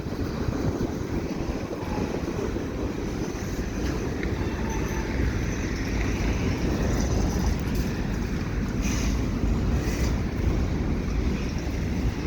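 A long CN freight train rolls past at a steady roar, with a continuous broadband rumble and wind buffeting the microphone, and occasional clanks rising from the cars.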